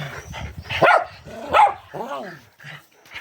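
Dogs barking and yipping close by in a few sharp, loud outbursts, with brief whining between them and no clear speech.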